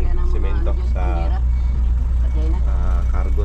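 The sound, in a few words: truck reversing with beeps while loading cement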